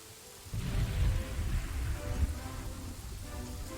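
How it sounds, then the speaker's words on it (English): Steady rain with low rumbling thunder from a thunderstorm in the city-building game Kingdoms and Castles, a dense wash of downpour that swells after a quieter start and holds loud throughout. "Going through the thunderstorm."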